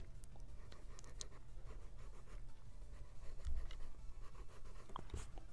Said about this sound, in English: I'll erase these lines real quick. Resketch that out.